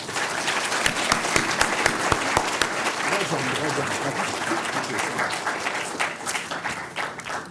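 Audience applause in a lecture hall at the Chinese University of Hong Kong, dense sustained clapping from a crowd that continues for several seconds before thinning out near the end.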